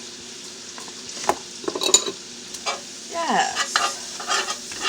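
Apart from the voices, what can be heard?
stirring homemade tomato soup in a pot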